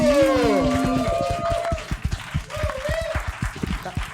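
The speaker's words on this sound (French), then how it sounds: "Applaudissez-vous le public." A live audience at a French podcast recording claps, the sharp separate claps building after a short stretch of voices and then carrying on, moderately close.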